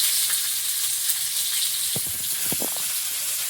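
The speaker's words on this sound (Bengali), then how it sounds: "তেলে একটু 5 ফোড়ন তেজপাতা দিয়ে দিলাম, না খেলে বলা যাবে না। একদম পেঁয়াজ কুচি।" Spices frying in hot oil with bay leaf, five-spice and chopped onion, a steady close sizzle with a few brief stirring scrapes and pops, no voices.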